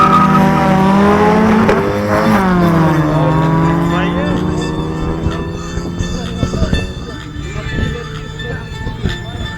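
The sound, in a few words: Honda Civic cars drag race start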